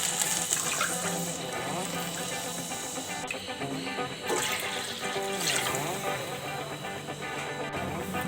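Three cups of water poured into a pan holding semolina for laddu, a steady gushing splash that runs on without a break at close range.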